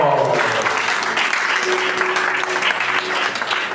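A church congregation applauds and acclaims Jesus with a dense, sustained burst of clapping close by, with voices mixed in throughout.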